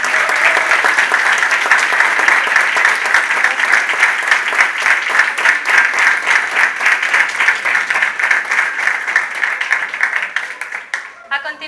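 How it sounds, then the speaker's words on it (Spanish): A university graduation audience claps long and loudly for a group of graduating students, a thick, even wash of applause that holds steady for about ten seconds before tapering off abruptly. "Un aplauso entonces, por favor, para todos los compañeros de la edición de Valencia"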